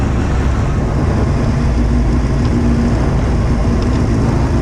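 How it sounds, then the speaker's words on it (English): A motorbike engine drones loudly and steadily throughout, recorded close up while riding at Whitby Bike Night, with a dense, unbroken rumble and no pauses. "the bike noise is lovely coming through here"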